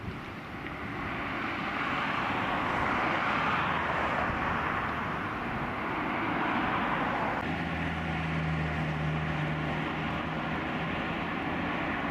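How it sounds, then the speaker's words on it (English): Steady road traffic roars from across the way in Hartlepool in August, a broad continuous rumble with a brief low engine drone near the end; no one speaks. "The noise of the traffic on the other side."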